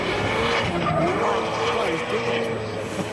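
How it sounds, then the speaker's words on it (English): A BMW 5 Series rally car races through a stage of the Otago Classic Rally, its engine roaring loudly as it passes close by, with a commentator speaking over it. "Here comes the Beamer, 5 Series Beamer."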